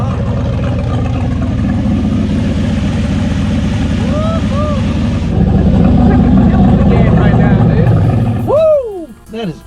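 A turbocharged 5.3 LS engine swapped in and running, a loud, steady rumble close by that grows heavier partway through, with a voice talking over it and whoops near the end as the sound cuts back.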